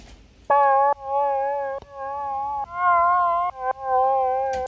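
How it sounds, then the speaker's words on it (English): A dry detuned vaporwave-style synth plays sustained notes that shift pitch across a few held chords, bright and wavering, close and clean with no added echo. "So without those effects, it sounds like this."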